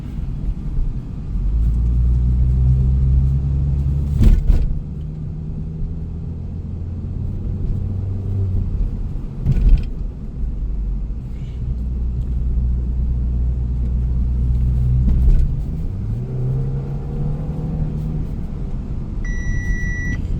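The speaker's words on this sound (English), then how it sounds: "Engine's running smooth." An Audi A5 2.0T with a P0016 timing fault drives along, its engine and road noise forming a steady, loud low rumble throughout, with brief thumps and a faint electronic beep near the end; no one speaks.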